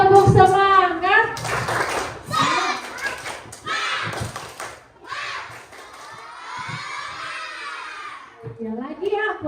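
Children and a teacher in a classroom chant together with bursts of rhythmic group clapping, voices shouting the chant loudly between claps.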